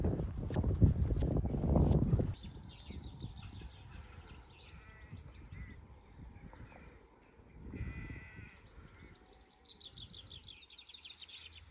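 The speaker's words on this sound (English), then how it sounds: "there's sheep in it" Sheep bleat in a field around the Avebury stone circle in England, one loud close call at the start and then fainter calls further off, with birds chirping throughout.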